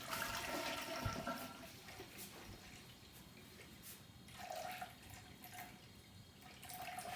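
Water running into a measuring cup for pizza dough, a faint splashing gush that swells and eases unevenly over several seconds with no voices.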